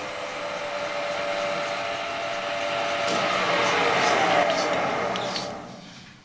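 Steady broadband whir and hiss of a lathe cutting an M12 thread on a stud with a single-point tool fed straight in on the cross slide, running continuously at moderate level with faint squeaks near the end before fading.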